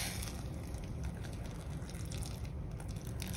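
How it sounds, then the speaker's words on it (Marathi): Hot water pours steadily into flour for chakli dough, a continuous close gush at low level with no talking. "तर आता हे गरम पाणी या पिठामध्ये घालायचं."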